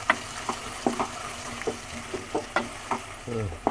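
Ingredients for tomato chutney frying and being stirred in a pan, a soft sizzle under a series of irregular scraping and tapping stirs, fairly quiet and close.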